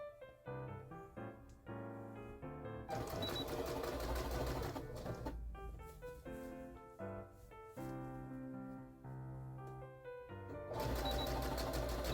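A sewing machine stitches quilt fabric at a half-inch seam, its fast mechanical rattle running in bursts with brief pauses and changes in speed, close and fairly quiet.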